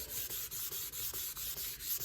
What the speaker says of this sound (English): I might be sanding over some areas that don't really need to be sanded over